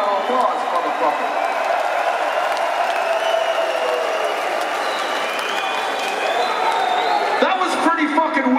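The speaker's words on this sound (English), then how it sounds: "Give yourself a round of applause" Concert crowd applauding and cheering at a metal show in Scranton, Pennsylvania, a dense, steady roar of clapping and shouts from a large outdoor audience stretching up onto the lawn, sustained throughout.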